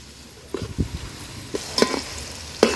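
Onions frying in a pan over a wood-fired stove for an Agri Koli mutton rassa, stirred until pink. A steady soft sizzle runs throughout, broken by several sharp scrapes and clinks of the spoon against the pan.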